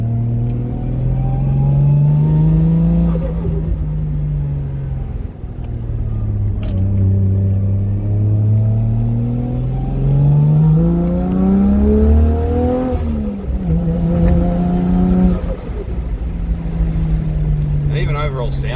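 A 1JZ engine car climbs uphill after a coil pack change, its engine note rising and falling through repeated gear pulls, loud and close from inside the cabin, with someone talking over it.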